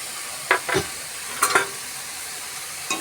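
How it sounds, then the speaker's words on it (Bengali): Filling for Mughlai chicken paratha stir-fried with bread crumbs in a pan, a few sharp spoon scrapes and clicks over a steady low sizzle, close and fairly quiet. "দিয়ে এটাকে একটু একটু ভালো করে ভাজা ভাজা করে দিলাম"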